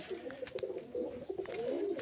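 Pigeons at a pigeon seller's stall in Beldanga give faint, soft, throaty coos in a low continuous murmur with a few brief clicks, no talking.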